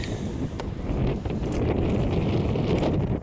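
Wind blowing outdoors in Dover, a steady broadband rush buffeting the microphone for the whole stretch, loud and close with gusty swells and no voices.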